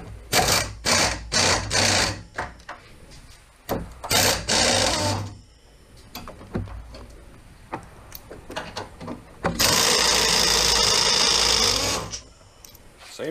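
A power tool backs 18 mm bolts out of a Western Ultra Mount plow mount on a 2019 GMC truck, with loud rattling impact bursts, short pauses and a long sustained run near the end, with no talking.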